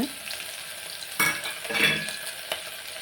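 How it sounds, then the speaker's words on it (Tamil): Onions fry in oil in a pan, a continuous close sizzle broken by sharp clanks and scrapes of stirring, with several louder metallic hits spread across the few seconds. "வெங்காயம் போட்டு நல்லா வணங்க விடுங்க"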